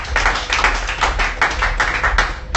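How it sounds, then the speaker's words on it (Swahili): Worshippers at a Bible study and prayer meeting clap their hands together in a quick, steady rhythm, loud and close, the claps landing in regular beats from start to finish. "Hebu tupige makofi kwa ajili ya Kristo."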